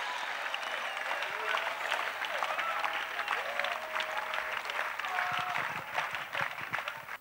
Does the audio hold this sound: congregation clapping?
yes